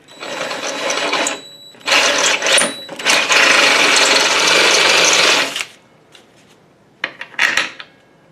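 A loud power drill whirs in bursts while enlarging a hole in a classic Ford Mustang for seat belt mounting, a short run, a pause, then a long sustained grind, followed by brief clicks and rattles.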